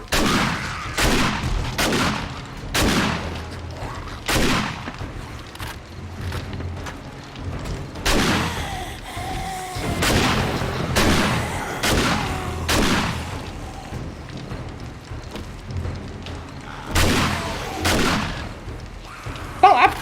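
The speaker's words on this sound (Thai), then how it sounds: "ทีนี้เวลายิงลูกซอง นะคะ ให้ระมัดระวังค่ะ" Shotgun blasts in the game 7 Days to Die, a dozen or so loud booming shots fired in uneven bursts, some in quick pairs, with short gaps between, close and dominant.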